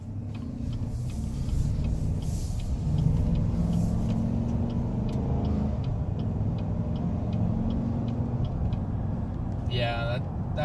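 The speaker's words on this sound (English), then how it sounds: "I like how that exhaust is singing back there." 2019 Chevrolet Silverado pickup in sport mode, its exhaust droning as a steady low rumble from behind while cruising on a highway, with occupants talking over it and a brief chime near the end.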